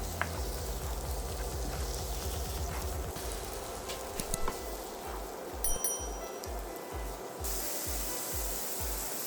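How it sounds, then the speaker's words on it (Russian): Steady frying sizzle from leeks softening in a pan, a broad hiss with faint crackles, close and continuous, with a low rhythmic rumble underneath. "На сковороде немного размягчим лук-порей."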